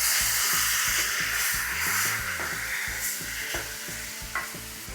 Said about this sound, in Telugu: నెక్స్ట్ ఇప్పుడు మనం మంచిగా వాష్ చేసుకున్న చికెన్ని వేసేయాలి.